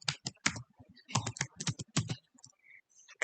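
Typing on a computer keyboard while entering commands in Maple 18 math software, a run of close, crisp key clicks in irregular bursts with brief pauses, alone without talk.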